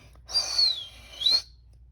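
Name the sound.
reed whistle blown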